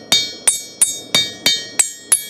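A hammer strikes a knife blade on an anvil while a bevel is forged at a hammer-in demonstration. Seven evenly spaced, sharp metallic blows ring out close by, each decaying quickly, with no talking.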